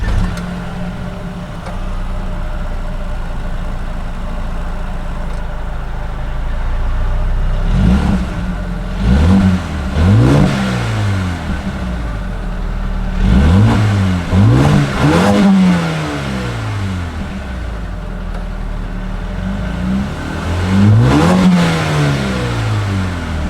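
A 2020 Mercedes-AMG CLA 35 with AMG Sport exhaust and aggressive rear diffuser idles, then blips through several loud throaty revs in quick pairs that rise and fall, with a final rev after a pause.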